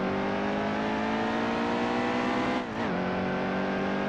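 A NASCAR Cup Series stock car in NASCAR Heat 2 roars under acceleration, its engine holding a steady, loud droning pitch, then briefly dipping and recovering as it shifts, heard close and alone.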